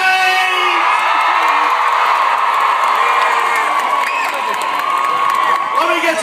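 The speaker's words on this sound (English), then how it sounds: "Please give him a big cheer for James!" Spectators in Loughborough's town centre cheer, whoop and shout for an Olympic torch relay runner, a loud, continuous crowd roar with children's voices and scattered calls layered through it.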